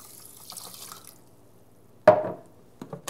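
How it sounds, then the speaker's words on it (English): Water is poured into the pot of a Rosewill RHRC-13001 fuzzy-logic rice cooker holding about a cup and a half of rice, a brief close splash followed by a couple of lighter trickles. "So I'll add the water into that next."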